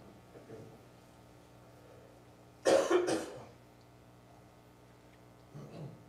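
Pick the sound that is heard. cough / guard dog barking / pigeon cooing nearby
cough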